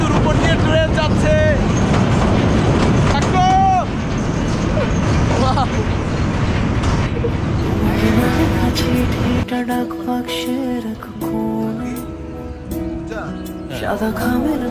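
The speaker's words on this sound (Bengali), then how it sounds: "ভৈরব রেল সেতুর উপর দিয়ে ট্রেন যাচ্ছে" Train crossing the Bhairab railway bridge, a dense continuous rumble and clatter of carriages that eases off partway, with horn tones and voices chattering over it.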